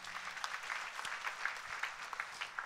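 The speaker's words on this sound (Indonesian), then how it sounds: "Berikan tepuk tangan bagi Allah kita." Congregation applause during a church sermon, a soft, steady patter of many hands clapping at some distance, faint and continuous.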